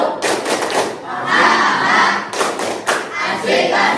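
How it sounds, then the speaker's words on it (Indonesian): Classroom pupils perform a rhythmic spirit clap chant, bursts of group clapping and shouted chanting in loud, close waves with brief dips between phrases. "Tepuk semangat."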